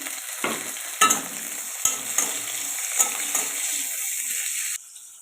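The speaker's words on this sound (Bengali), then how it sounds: "ক্যাপসিকাম ভাজা হচ্ছে" Chopped capsicum sizzles and fries in hot oil in a kadai, with steady crackling broken by several sharper stirring scrapes; the sizzle cuts off near the end.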